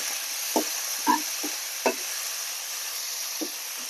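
Chopped tomato fries in a hot pan for a drumstick sambar, a soft continuous sizzle punctuated by several sharp spatula scrapes and knocks.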